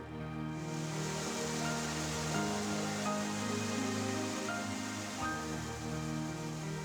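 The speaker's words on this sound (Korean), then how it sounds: "물소리, 가끔은 바람결에 스치는 나무잎 소리, 이거 하루 종일 들어도 지루하지 않는 소리." Water flows steadily and rushes in a stream at Tongdosa, an ancient Korean Buddhist temple. The wash is broad and continuous and fills the whole scene at close range, with no voices.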